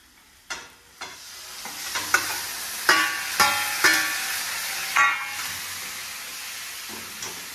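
Cooked fried mutton stirred in a hot pan with onion masala: repeated close scraping and stirring strokes, roughly a dozen sharp clatters over steady sizzling, no talking.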